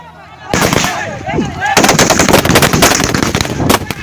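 Sustained automatic fire from M60 machine guns and Galil rifles during a platoon shooting along a road, loud dense bursts of rapid shots with a sharper outburst after a brief opening lull and no talk over it.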